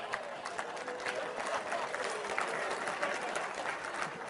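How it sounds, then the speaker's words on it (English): Applause rises from guests at a safety summit gala dinner, a steady wash of many clapping hands heard at moderate distance without speech, holding even for a few seconds. "I got more applause than booze."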